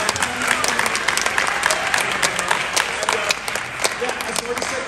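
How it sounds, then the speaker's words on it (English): A convention audience applauding steadily, dense clapping from many hands that holds at a lively level throughout. "let's give a round of applause to our guests today."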